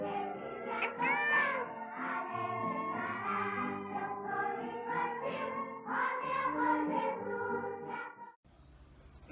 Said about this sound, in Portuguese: Lotinha, por que seu gatinho chama Maio?